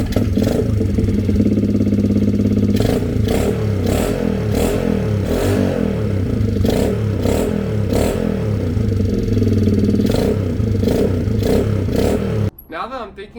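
Honda XR70 motorcycle with an 88cc big bore kit runs close up, a small single-cylinder engine idling loudly with repeated rev blips, then cutting off near the end.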